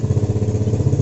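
A motorcycle engine with a double sprocket and clutch setup is given a light throttle in neutral, a close, steady, pulsing putter at a low rev with no voices.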